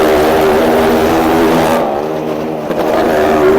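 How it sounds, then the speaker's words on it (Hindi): An old, worn motorcycle circles the wall of a well-of-death stunt show at an annual Urs fair in Mirpur, Azad Kashmir, its engine a loud continuous droning buzz with a brief dip before rising again, no talk. "छकड़ा सा मोटरसाइकिल है, कोई पता नहीं कौन से मॉडल का।"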